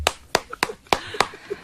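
Hand clapping in a radio studio: five sharp, separate claps with uneven gaps, close and fairly loud over a quiet background.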